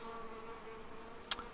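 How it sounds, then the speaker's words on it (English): Faint buzzing of a tiny swarm of bees gathered on the ground outdoors, a soft continuous drone with a few passing whines and one brief sharp tick near the end. "a tiny swarm of bees on the ground"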